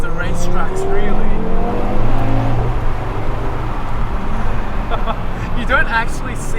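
An Audi TT RS Performance under hard driving, its engine note rising and shifting loudly and continuously, heard close from the cabin with a voice speaking over it.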